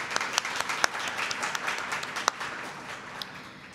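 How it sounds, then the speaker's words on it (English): A warm round of applause for youth council graduates at a Columbus ceremony, dense clapping from the audience with a few sharper claps standing out, sustained for several seconds. "if we can just give a warm round of applause to our graduates"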